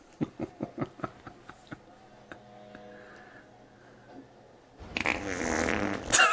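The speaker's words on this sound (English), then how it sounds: "Responds with a fart." A fart from a scene in the pirate drama Black Sails, Season 1 Episode 7, heard as a quick run of short popping bursts followed by a louder, rougher sputter near the end.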